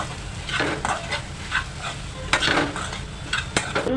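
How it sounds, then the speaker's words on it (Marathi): Boiled potatoes, hand-mashed, being stirred into a cooking sandwich filling in a pan on the stove; repeated scraping stir strokes with a soft sizzle underneath, close and moderately loud, no talking. "तीन मध्यम आकाराचे बटाटे उकडत ठेवलेले हे मी हाताने स्मॅश केलेले आहेत ते घालावे आणि मिक्स करा"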